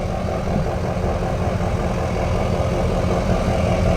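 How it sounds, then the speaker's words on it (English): Pickup truck exhaust rumbling steadily at idle, a deep continuous low drone held at constant loudness throughout, with no voices. "tell us a little bit about your exhaust"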